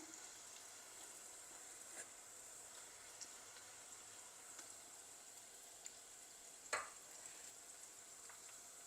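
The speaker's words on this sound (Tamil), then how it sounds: "நல்லா பொரியட்டும் வெண்டிக்காயெல்லாம்" Steady, soft crackling sizzle of okra frying in hot oil, continuous and fairly quiet, with an occasional brief clink or stir.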